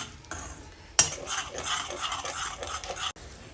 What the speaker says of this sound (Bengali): এবার রেড চিলি পাউডার দিয়ে দিচ্ছি। এবার সেটাকে এবার নাড়াতে থাকবে যাতে পুড়ে না যায়